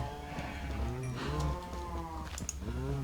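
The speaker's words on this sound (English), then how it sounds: "put a couple of cows back in there" Cows moo repeatedly in Minecraft with the Feed The Beast modpack, several overlapping low, wavering calls close by in a steady chorus with no talk.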